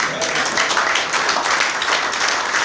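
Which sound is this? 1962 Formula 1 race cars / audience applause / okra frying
audience applause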